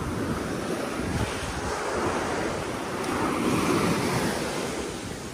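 Ocean waves at Mona Vale Beach in Australia wash and roar continuously, loud and near, with gusts of wind buffeting the microphone.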